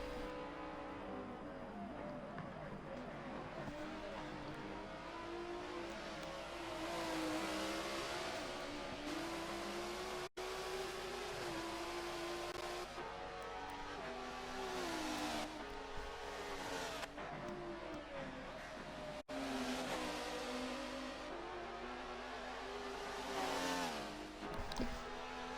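Race cars in a Le Mans racing video game cross the line to begin a lap, with continuous loud engine drone and revving that rises and falls as the cars pass, briefly dropping out twice.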